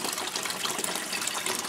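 Hot tub water jets coming on, a steady close gushing and churning of water, loud and continuous with no talk over it.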